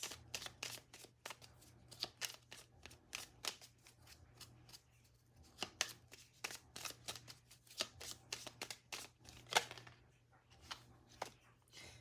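Cards for a reading are shuffled steadily at close range, a long run of quick riffling snaps and soft slides over a low steady hum, with no talking.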